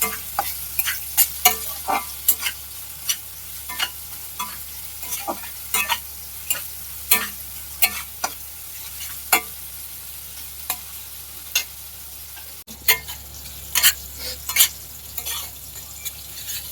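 Tomatoes with salt and spices sauté in a pan. A spatula scrapes and taps in repeated strokes over a low, constant sizzle, heard up close with no talking.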